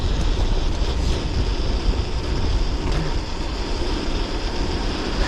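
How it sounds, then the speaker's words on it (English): Heavy, continuous wind buffeting a GoPro microphone fitted with furry wind muffs while cycling in cold weather, a loud low rumble that stays steady for the whole stretch with no voices. "we had a whole lot of wind there"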